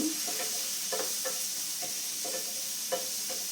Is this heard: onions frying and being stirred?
yes